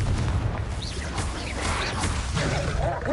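A spell explosion in Hogwarts Legacy on PS5 erupts as a loud, rumbling boom with crackling bursts over continuous heavy game noise, the blast carrying through most of the moment.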